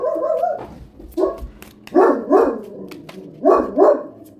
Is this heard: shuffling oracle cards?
no